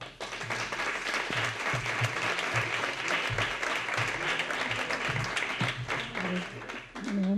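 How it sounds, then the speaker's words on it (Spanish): Sustained audience applause at a Rocío brotherhood lecture evening, dense steady clapping from a crowd that fades near the end as a voice begins. "Un fuerte aplauso."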